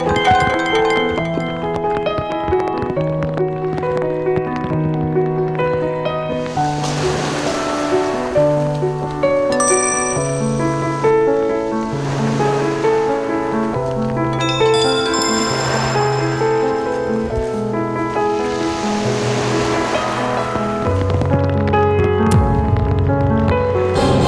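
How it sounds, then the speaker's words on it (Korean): Sea waves wash over a pebble beach in Korea, rising in several broad swells that rush and recede, partly masked by loud, continuous music playing throughout. "파도 소리가 자갈 소리하고 부딪히면서 소리가 너무나도 아름다워요"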